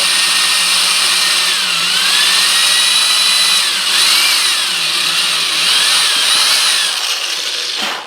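A power drill whines steadily and loudly as it bores a bolt hole into a wooden guitar body, its pitch dipping and rising with load over several seconds before stopping abruptly.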